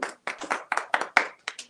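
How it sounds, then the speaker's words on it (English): A school class claps at a monthly awards assembly, a scattered series of sharp, close hand claps in uneven bursts rather than a full roar. "Give her a round of applause."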